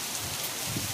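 Rain falling near a Hanuman temple in Chhattarpur, a brief dense patter with steady hiss, close and fairly quiet.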